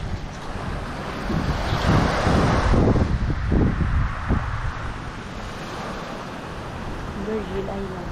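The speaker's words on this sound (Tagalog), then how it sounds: "Grabe yung mga alon dito katangay, malalaki, kaya yung mga bato nagtaasan." Large ocean waves surge and crash onto a rocky shore at Virgin Island, mixed with heavy gusting wind buffeting the microphone; the roar swells midway, then eases into a steady wash.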